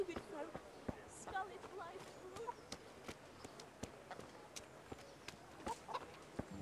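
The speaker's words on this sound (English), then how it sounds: "Hi, chickens." Chickens in the video game Kingdom Come: Deliverance cluck in short, soft bursts near the start, among footsteps and ambient village sounds, with someone talking.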